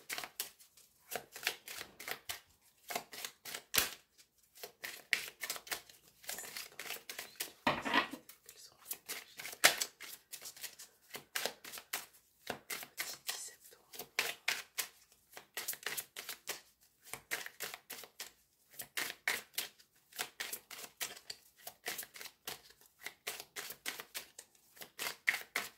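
Oracle cards being handled and put away during a French card reading, with a steady run of crisp, papery shuffles and taps close by, no talk over them.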